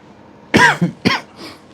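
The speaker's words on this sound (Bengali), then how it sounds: "একটু পরপরই কাশি আসবে এখন আমার" Two or three sharp coughs in quick succession, close and loud against near silence.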